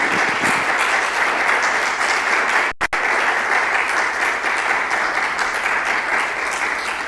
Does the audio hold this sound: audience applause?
yes